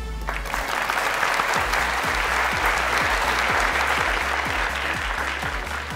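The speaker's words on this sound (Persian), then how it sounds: "تشویق کنید" A studio audience on the Afghan Family Feud game show Ro Dar Ro applauds with sustained, dense clapping under a steady low rhythmic beat of music.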